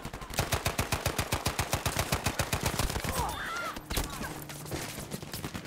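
Rapid automatic gunfire in Battlefield 5, a long loud burst of evenly spaced shots that breaks into scattered single reports and other combat noise toward the end.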